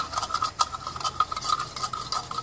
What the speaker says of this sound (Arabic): معلقتين سكر والميه واقلبها